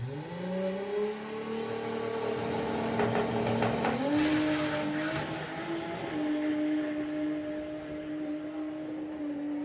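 A VW drag car powered by a rear-mounted 2.8 litre engine launches at a drag strip, its note climbing through gear changes and then fading into the distance, with no voices over it.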